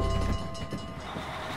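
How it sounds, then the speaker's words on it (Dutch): Train passing in the Dr. Panda children's video game, a loud low rumble at the start that eases into a steady rolling wagon noise with faint clatter, no talk over it. "Er komt een trein aan."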